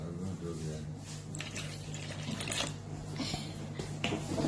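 Water trickles and splashes into a Fisher-Price Thomas the Tank Engine toy potty, a close, uneven liquid patter with small drips, while people talk softly over it.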